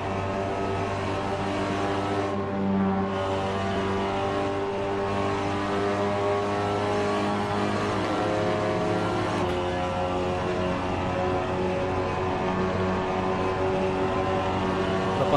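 Seat Leon TCR race car engine in the Assetto Corsa racing game at Watkins Glen, a steady sustained drone with engine harmonics holding fairly constant, continuous and fairly loud throughout, without talk.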